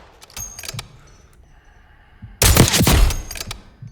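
A single long-range rifle shot in Call of Duty Warzone on Verdansk, a sharp loud crack followed by a brief rumbling tail after quieter game ambience.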